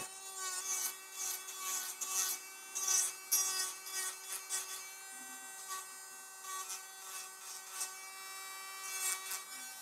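A nail file rubs repeatedly across the sides of stiletto-shaped acrylic nails, giving soft, close, scratchy strokes in an uneven rhythm over a steady faint tonal hum.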